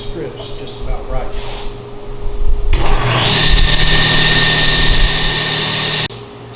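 A table saw rips strips of oak against the fence. Steady motor whine rises to a loud, sustained cutting roar for about three seconds, then cuts off abruptly.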